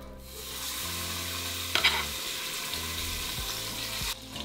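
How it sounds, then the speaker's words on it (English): Pork for chile verde browning in a tablespoon of oil inside an Instant Pot, a steady close sizzle and frying hiss with a couple of brief clinks and scrapes from stirring, no voices. "We're going to add another tablespoon of oil. And repeat the same process to the remaining of our meat."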